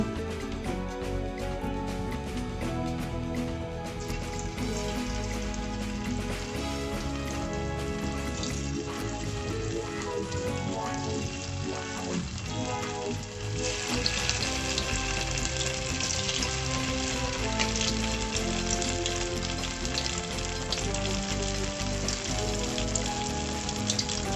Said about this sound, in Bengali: কড়াইয়ের তেলটা ভালোভাবে গরম না হতেই পনিরগুলো দিয়ে দিয়েছি